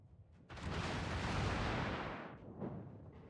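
A broad, booming blast of naval gunfire in World of Warships swells after a short lead-in, sustains a rumbling roar for nearly two seconds, then fades, leaving a few quieter trailing pops.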